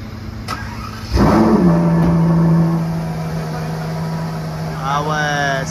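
A supercar engine on a Paris street fires up with a sharp burst and settles into a strong low idle, then a brief rising rev near the end, with people talking nearby.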